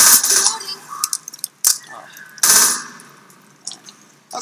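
Gunfire in the video game Left 4 Dead comes in sharp bursts of shots and clanking metallic hits, scattered irregularly and separated by quieter gaps, with a faint voice underneath.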